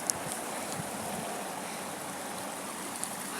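Rushing water from a waterfall at Santa Fe fills the scene as a steady, broad hiss of flowing water, even and unbroken.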